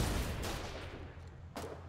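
A short, loud burst of War 88 combat gunfire, with a heavy boom up front, a decaying rumble, and a second sharp shot near the end.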